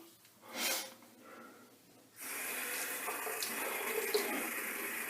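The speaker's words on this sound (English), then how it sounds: "Rinse my face." Tap water runs steadily into a sink while a man rinses his face after a shave, with splashing and breathing at first, then a constant loud stream close by.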